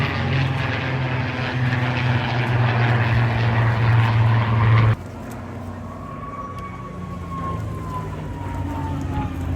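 P-51 Mustang flying at the Blackpool airshow, a loud droning propeller engine that cuts off abruptly midway, leaving a fainter distant hum with a falling tone.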